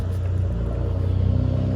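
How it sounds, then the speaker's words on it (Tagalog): A car rolls to a stop close by on a road, its low engine rumble steady and near, idling with a faint pulsing throb and no voices. "May nag-stop na sasakyan."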